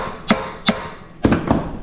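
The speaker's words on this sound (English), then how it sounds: "if anyone ever tells you you can't fix things by hitting them with a hammer" Hammer blows striking a part on a rare 18 HP Tecumseh engine: two sharp metallic hits, a pause, then two more quick strikes, close and loud with no talking.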